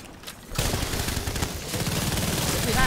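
Video game gunfire in a Dark Zone firefight, with rapid, overlapping shots and bursts crackling continuously after a short lull, fairly close and loud, while voices murmur underneath.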